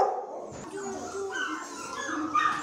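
Shelter dogs whimpering and yipping close by, a steady run of whines and short yelps with busy overlapping voices and no pauses.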